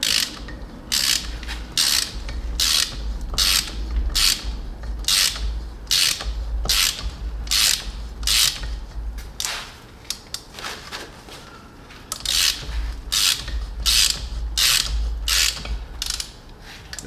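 A ratchet drives a thread chaser clockwise through a spark plug hole in a 1997 Ford F-150 4.6L cylinder head, sharp rhythmic clicking bursts repeating steadily and close, with a brief pause midway before resuming.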